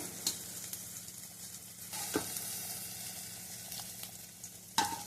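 A sautéed tempering tipped into a pot of kuzhambu curry gives a soft, fairly quiet sizzle with a few clinks and scrapes of a utensil against the pan, no voices.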